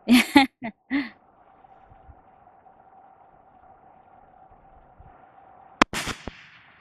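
A .375 CheyTac Improved rifle fired at extreme long range, sharp loud cracks at the start, then a long quiet hum, then another sharp burst of impacts near the end.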